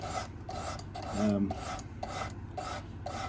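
Steady rasping strokes of a knife blade across a stone on a Work Sharp Precision Adjust sharpener, about six close, even passes with brief pauses, with no talk.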